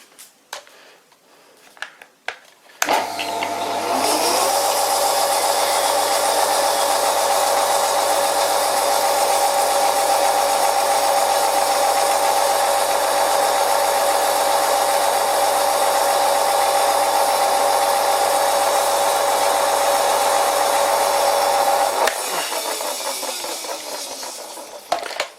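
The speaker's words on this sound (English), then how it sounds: "With the original motor and pulley, the lathe should be running 490 RPM maximum." A WW2-era Fischer lathe on its original motor and pulley starts with a clunk and runs at top speed for about twenty seconds, a loud, steady whirring drone with a whine, then switches off and winds down, heard up close.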